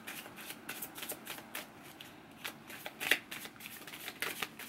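Tarot cards being shuffled for a reading, a run of soft riffling flicks and slaps in quick, uneven bursts, close but quiet.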